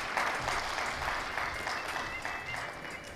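Audience applause welcoming guests onto a stage at a public event in Shekhawati, a continuous wash of many hands clapping that stays steady and gradually eases slightly.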